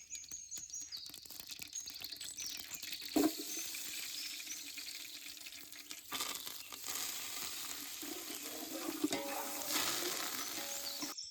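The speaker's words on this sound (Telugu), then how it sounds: "సాంబార్ కోసం నూనె వేడైన తర్వాత మనం మెంతులు ఆవాలు కొంచెం కలమాకి వేసుకొని ఎంపుకుందాం" Fenugreek and mustard seeds fry in hot oil for village-style sambar, giving a steady close sizzle with faint crackles and pops throughout.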